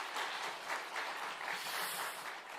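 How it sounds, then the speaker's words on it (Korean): A large crowd applauds steadily at a church revival service, a dense even wash of clapping throughout with no speech. "우리 하나님께 감사의 박수 드리겠습니다"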